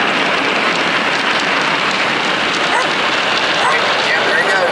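Inside a car wash, spinning brushes and spraying water drum against a car in a loud, dense, continuous wash that sounds like a downpour.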